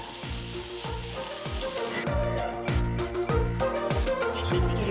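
Diced carrot, cabbage and beetroot fry in a pan, giving a loud, continuous sizzle. A steady rhythmic beat runs underneath throughout.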